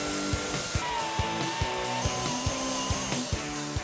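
A chainsaw carving into a block of ice gives a loud, steady buzzing whine with regular rhythmic thumps as the blade bites, heard alone.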